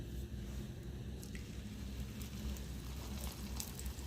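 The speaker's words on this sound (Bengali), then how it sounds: "এবার ভাজবো, চাটু বসিয়ে দিয়েছি।" An aloo paratha cooks on a hot tawa with a soft, steady sizzle and faint squishy crackle, low in level and continuous, with no talking.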